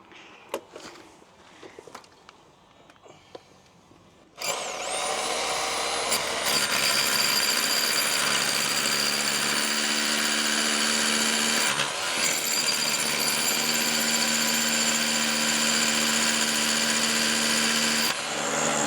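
A power drill with new bits bores a hole right through a wall in an old rectory under renovation. It runs as a loud, continuous whine for about fourteen seconds with brief dips in load, after quiet shuffling.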